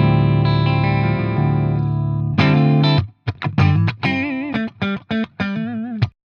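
An electric guitar through a Fender '65 Deluxe Reverb tube amp, high input on the vibrato channel, reverb off: a sustained overdriven chord rings out, then a string of short, punchy distorted notes and bends, dry and loud.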